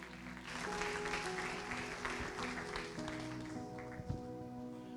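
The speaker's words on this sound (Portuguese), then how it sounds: "Aplauda ao Senhor, queridos." Church congregation applauding during an evening service, moderate clapping layered over sustained musical tones, with a sharp accent near the end.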